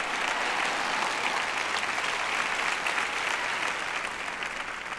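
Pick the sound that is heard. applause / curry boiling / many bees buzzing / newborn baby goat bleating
applause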